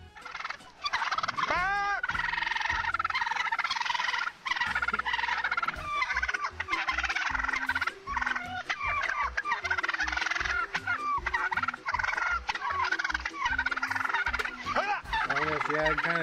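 Police officers imitate birds with loud, rapid turkey-like gobbling calls, repeated in bursts almost without pause over a street scene, the voices close and harsh.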